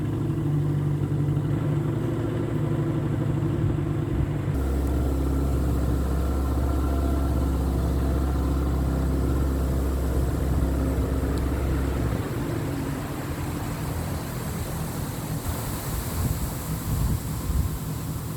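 Traffic passing on a road near a reedy tidal creek in Kilkenny, a continuous engine drone with swells as vehicles go by, mixed with steady wind noise on the microphone and no talk.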